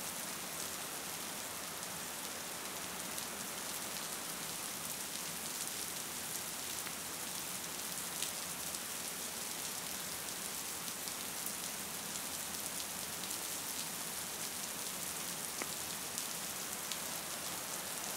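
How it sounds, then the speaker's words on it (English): Steady rain falling and pattering on land and vegetation, a dense, even hiss that continues without a break, with no voices present. "Drop by drop, rain falls on the land and falls on the vegetation."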